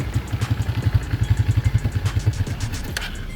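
A motorcycle pulls away as the clutch is eased out, its engine thumping in a fast, even, loud chugging rhythm close by.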